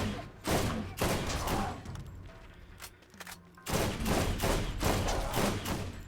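Rapid bursts of gunfire from the Borderlands 1 video game in a fight against an armored spider enemy, dense and fairly continuous with a short lull in the middle.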